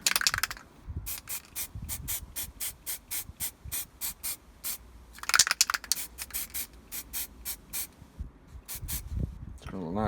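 An airbrush puffs light grey paint onto tabletop wargaming terrain in rapid short bursts from the trigger being tapped, each hiss close and crisp, with two quick runs of spurts separated by a brief pause.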